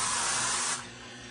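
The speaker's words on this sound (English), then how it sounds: "Quick spray of vegetable oil non-stick cooking spray" A vegetable oil non-stick cooking spray can releases one steady, loud hissing burst lasting under a second, then fades to a quieter hiss.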